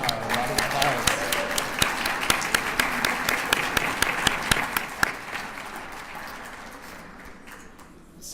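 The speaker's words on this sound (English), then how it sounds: "Wow, a lot of applause." Crowd applause in the lobby of a historic concert hall, loud and full at first with sharp individual claps standing out, then thinning and fading toward the end.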